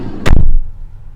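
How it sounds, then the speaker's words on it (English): Sliding side door of a 2022 Mercedes Citan van rolling shut, ending in one loud, sharp slam at close range, followed by a brief fading rumble. "You can just grab it on the side and there it slides."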